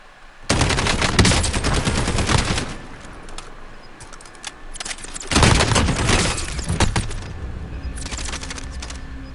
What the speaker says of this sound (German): Irgendwo hat da einer geschossen.